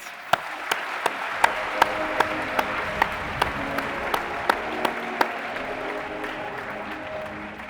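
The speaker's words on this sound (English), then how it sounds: "please join me in a big round of applause for all of our awardees" Applause for awardees at the closing ceremony of the IAC 2023 in Baku, a steady clapping audience with a few sharp, louder claps standing out at regular intervals, fading slightly toward the end.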